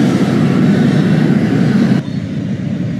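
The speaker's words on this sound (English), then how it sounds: "We'll watch that train leave." A subway train pulls out of 77th Street Station in Minecraft, a loud, steady rumbling roar of the train that drops off abruptly partway through, with no talk.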